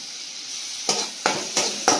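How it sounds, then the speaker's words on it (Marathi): Ginger, garlic and green chili paste hitting hot oil with frying onions in a home kitchen: a steady sizzle broken by four sharp stirring scrapes of a spoon in the pan, close and clear. "त्यानंतर टाकायचं आपल्याला ही आलं लसूण आणि मिरचीची पेस्ट."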